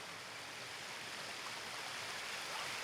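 The young River Trent, a small boisterous stream near its source, flows in a steady, even rush of water heard close and alone, with no voices.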